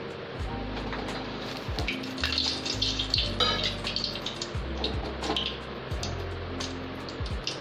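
Freshly fried pakoras for a dhaba-style kadhi pakoda are dropped into water, with repeated soft plops, gurgles and watery splashes, quiet and close-up, with no talk.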